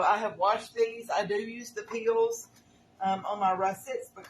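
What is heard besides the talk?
No everyday noises stand out.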